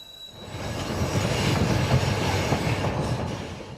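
A train rolls steadily along mountain railway tracks in Argentina, a continuous low rumble with faint rhythmic clacks of wheels, close and fairly loud, no voices.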